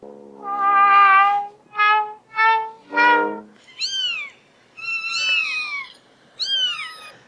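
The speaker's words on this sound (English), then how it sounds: "there's a squeaky sound, there's a cat sound, a dog sound" A series of distinct cat meows played from a sound app, first several lower drawn-out cries, then higher, squeaky kitten-like mews, separated by short pauses and heard clearly alone.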